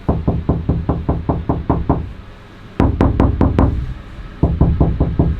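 Repeated knocks on the bare, uninsulated metal roof of a van, tinny and hollow, in quick rhythmic bursts with a short pause between groups.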